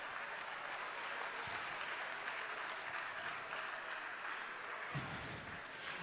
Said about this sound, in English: let's give them a nice round of applause for all 3 teams